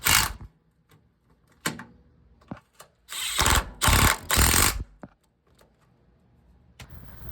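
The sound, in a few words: reinstalling 12mm bolts on a 1999 Mitsubishi Montero Sport bracket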